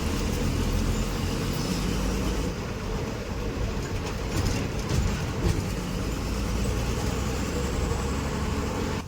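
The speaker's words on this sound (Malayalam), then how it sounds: "ബസ് ഇപ്പോൾ നേരെ പുതിയ ബസ് സ്റ്റാൻഡിലേക്കാണ് കയറുന്നത്" Inside a moving bus in Wayanad, Kerala, pulling into a new bus stand: a constant loud engine rumble and road noise with rattles and occasional knocks from the cabin, no talking.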